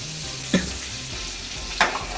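Soaked rice for prawn kabsa is stirred in a pan, two brief scraping strokes standing out over a steady sizzling hiss, close and fairly loud, with no voices.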